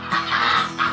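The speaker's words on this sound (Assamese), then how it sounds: "চব মোৰ হাঁহখিনিয়ে ৰাতিপুৱা মোক গুড মৰ্ণিং দিছে" Several geese or ducks honk and quack loudly at close range on a morning farm, calls overlapping in quick bursts with no talk.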